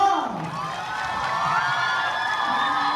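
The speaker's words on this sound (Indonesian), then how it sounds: "Lebih tepuk tangannya boleh untuk Prof. Suyatno" Audience applause with cheering and whoops for a professor after a campus drama performance, a continuous crowd roar with shouts rising over it, with a voice briefly heard at the start.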